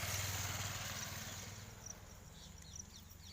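Motorbikes speeding past on a road, a fairly faint engine drone that is strongest at first and then fades as the bikes pull away.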